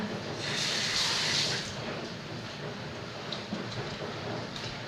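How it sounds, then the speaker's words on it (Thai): Steady, dense rainfall hisses continuously, with a soft low rumble underneath and no voices. "ตอนนี้คือฝนตกอยู่นะคะท่านผู้ชมเสียงก็อาจจะดังนิดนึงนะคะ"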